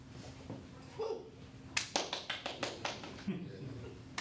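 A run of hand claps starting around the middle, about a dozen quick, fairly even slaps at moderate volume, preceded by softer scattered sounds and a faint voice.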